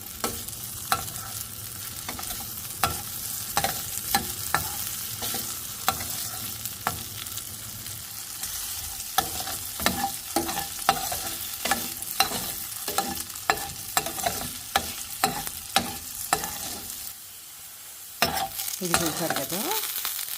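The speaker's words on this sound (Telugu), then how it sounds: "ఇది ఫ్రై అయినట్లు మనకు తెలిస్తే చాలు" Taco shells frying in hot oil give a steady close sizzle, broken by frequent sharp clatters and scrapes as they are turned in the pan, with a brief lull near the end.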